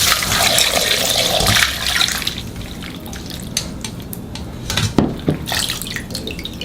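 Green garlic is rinsed quickly under cold running water, with a steady splashing flow that eases off into scattered drips and small splashes near a sink. No voices are heard.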